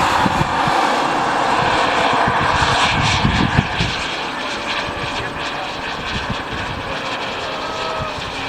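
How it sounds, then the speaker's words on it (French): A scale model jet engine whines loudly as it flies past, the roar peaking then easing and fading as it moves away. "Avez-vous remarqué qu'il ralentit son moteur quand il fait un virage important?"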